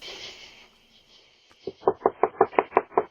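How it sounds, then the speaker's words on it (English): Knocking at a door: after a faint hiss, a run of about eight sharp, evenly spaced raps lands close and loud, each one crisp and separate. "Knocking at the door."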